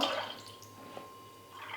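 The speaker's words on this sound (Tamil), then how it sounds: "அந்த பருப்பு தண்ணியோடு சேர்த்து இந்த புளி தண்ணியில் ஊற்றிக்கலாம்." Cooked toor dal water is poured into tamarind water in a kitchen, a short close liquid splash and trickle that fades to quiet, then picks up slightly at the end.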